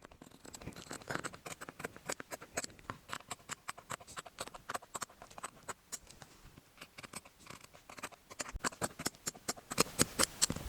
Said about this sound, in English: So now we're just going to cut these out.